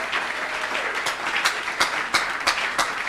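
A church congregation applauds during a Sunday service, with steady, fairly loud clapping from many hands and a few sharper claps standing out near the end.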